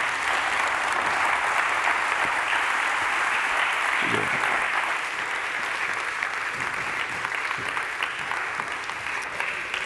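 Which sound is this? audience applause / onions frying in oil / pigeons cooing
audience applause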